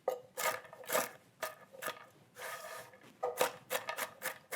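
Kitchen knife chopping food on a board, irregular bursts of close scraping, slicing strokes with brief pauses between, fairly quiet.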